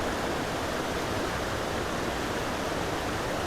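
Waterfall at Craflwyn near Beddgelert, North Wales, in woodland: a steady, dense roar of falling water filling the whole clip at constant loudness, with no voices.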